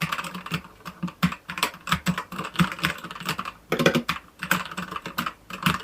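Brisk, close typing on a ZI YOULANG wireless tactile mechanical keyboard, a steady stream of crisp clacky keystrokes with brief pauses.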